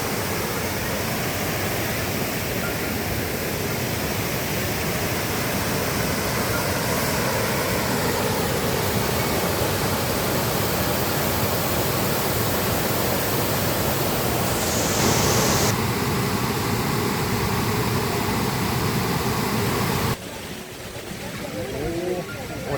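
Erawan Falls waterfall in Kanchanaburi, Thailand, roaring as a loud, steady broadband rush of water close by, continuous throughout with a brief shift in tone near the end.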